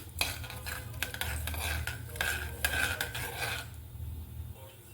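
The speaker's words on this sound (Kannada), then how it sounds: "ಸಾಸಿವೆ ಸಿಡಿಯೋದು ಆಯಿತು" Mustard seeds splutter and crackle in hot oil for a bitter gourd palya, a dense, continuous rattling of small pops close up with some metallic pan and spoon scraping, fading toward the end.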